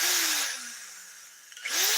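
A power screwdriver backs out short iron screws while a CRT is dismantled for recycling. The motor whines loudly, winds down and goes quiet, then spins up again near the end.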